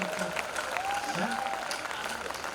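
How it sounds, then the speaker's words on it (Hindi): An audience at a Hindi kavi sammelan poetry event applauds, a steady dense patter of clapping at moderate distance with voices mixed in throughout. "ताली बजाओ, लड़की ताली के लिए कह रही है"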